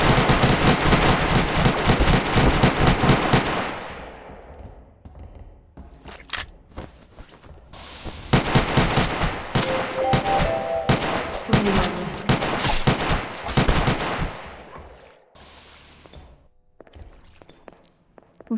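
Rapid automatic gunfire from a weapon in the space station game Space Station 14 rattles in long dense bursts, pausing briefly before a second sustained volley and scattered single shots, loud and close.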